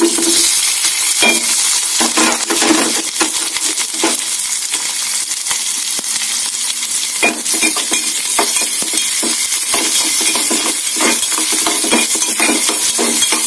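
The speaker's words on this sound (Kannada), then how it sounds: "ಈರುಳ್ಳಿ ಮತ್ತು ಹಸಿಮೆಣಸಿನಕಾಯಿ ಒಂದು ಸ್ವಲ್ಪ ಫ್ರೈ ಆಗಲಿ ಇದರಲ್ಲಿ" Cumin, green chillies and onion fry loudly in hot oil in a pan, a dense continuous sizzle with frequent scraping and clinking of a stirring spoon throughout.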